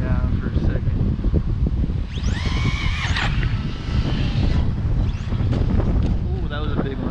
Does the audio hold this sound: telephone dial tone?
no